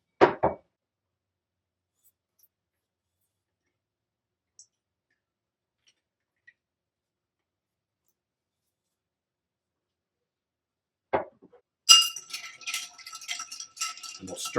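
A sherry-finished rum Old Fashioned with Angostura and chocolate bitters stirred over ice in a mixing glass. After a long near-silence comes a brief clink, followed by a few seconds of close, rapid, rattling clicks of ice against glass.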